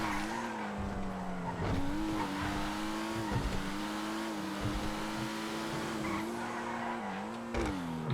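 A Pariah sports car races in a GTA game, its engine droning steadily while the pitch dips and rises with gear changes, tire squeal and skidding layered over the continuous roar.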